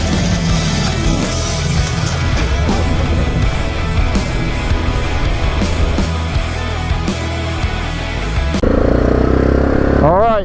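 A motorcycle rides along Georgia back roads, its engine droning loud and steady throughout with wind rush, close to the rider.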